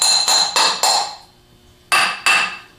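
A bushing is tapped onto a greased motor armature held in a vise, giving six sharp, ringing metallic hammer strikes, the first four quick and evenly spaced, then a pause before two more, close and loud.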